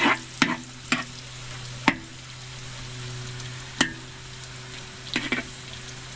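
Kikiam frying in a pan, a continuous close sizzle broken by several sharp clinks of a utensil against the pan at irregular intervals, with no talk.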